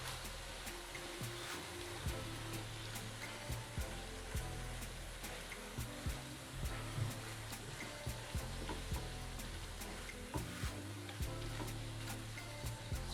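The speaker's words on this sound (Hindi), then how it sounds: "स्पाइसेस को कीमे के साथ मिक्स करेंगे ताकि जो मसाले हैं उस तरह से कीमे को लग जाए।" Minced meat (keema) frying in a pan with whole spices such as cumin and a piece of cinnamon being stirred through it: a steady, dense sizzle with scattered clicks of the spoon, close and continuous.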